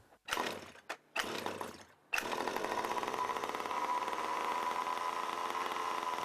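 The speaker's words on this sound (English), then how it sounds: "Start the engine again as shown before." The small engine of an HPI Baja RC car sputters briefly, then catches and idles with a buzzing, steady rattle close by.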